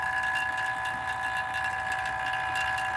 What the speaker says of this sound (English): And I'm gonna shut off the pump.